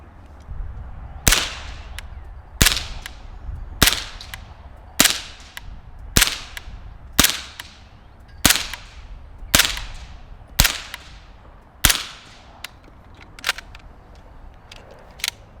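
Suppressed MP5-K in the K configuration firing 150 grain subsonic Federal Syntech 9mm, about eleven sharp, evenly spaced reports roughly a second apart, each a loud crack with a short decaying tail, no talking.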